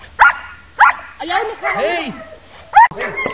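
A dog barks during protection training, giving a string of sharp, close barks and yelps in short bursts. A handler shouts commands between and over the barking.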